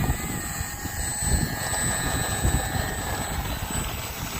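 Electric RC Arrows Bearcat model plane whines steadily as it takes off outdoors, a continuous motor and propeller drone heard from fairly close over faint wind.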